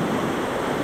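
A waterfall in Palale, Barangay Diaro, Malinao, Albay, heard as a dense, steady roar of rushing water that fills the short moment without a break.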